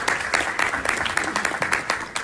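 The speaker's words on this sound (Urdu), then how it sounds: "تالیاں ہونی چاہیے." Audience clapping in a lively burst, fairly dense claps from a modest crowd at close range, with speech mixed in.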